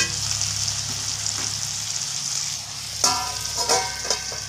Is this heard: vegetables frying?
yes